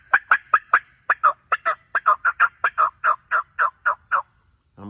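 A wild turkey gobbler gobbles in a long rapid run of about twenty sharp, evenly spaced notes, loud and close with no voices over it.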